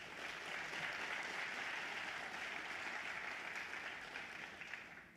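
Audience applause fills a State of the City address hall in Little Rock, a steady, even wash of clapping that holds for about five seconds with no voices over it.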